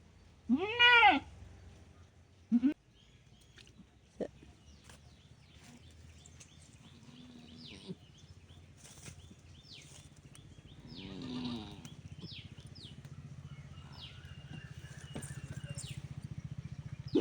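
A newborn goat kid gives a few loud bleats close by at the start, then fainter scattered calls with rustling and other farm noise in a quiet barn.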